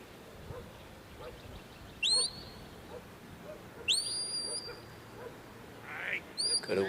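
A shepherd's shrill whistle commands a sheepdog at a sheepdog championship final, with three sharp rising blasts spaced a couple of seconds apart over soft outdoor background.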